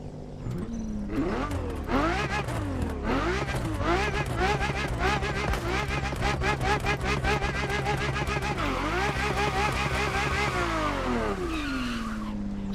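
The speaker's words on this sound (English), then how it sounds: "Here, also we'll do some quick revs as well." A high-revving Ferrari F50 engine in The Crew Motorfest roars and climbs repeatedly in sharp bursts, loud and close, with pitch sweeping up and down throughout.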